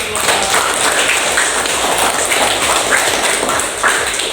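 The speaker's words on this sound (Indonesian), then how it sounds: "Tepuk tangan" Classroom students clapping hands after a group presentation, a lively rush of claps from a roomful of children with uneven rhythm, fairly loud and steady over a few seconds.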